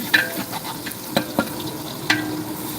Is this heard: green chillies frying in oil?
yes